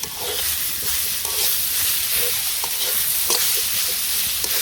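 Garlic being stirred into a dish frying in a pan: steady close sizzle with repeated scraping strokes of the spoon against the pan, loud and continuous, with no talking.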